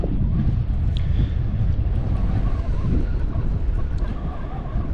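Strong wind blowing over cold water near a boat heading into the shallows, a steady loud low roar with buffeting against the microphone throughout.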